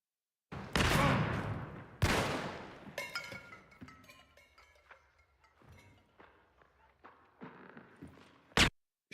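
Video game shooter gunfire: a couple of loud bursts of shots near the start, followed by scattered thuds, footsteps and smaller impacts fading into quieter game ambience.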